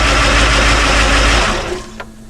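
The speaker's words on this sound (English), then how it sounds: "You hear those timing gears? Isn't that annoying?" A Ford F-100 pickup's V8 idles with loud, noisy timing gears, a dense steady clatter that drops away after about a second and a half to a quieter idle with one small knock.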